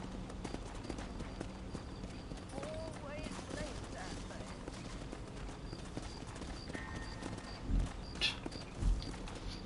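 Horse hooves clip-clop at a steady walking rhythm in the western game Red Dead Redemption, close and even throughout, with a few heavier thuds near the end and brief vocal sounds mixed in.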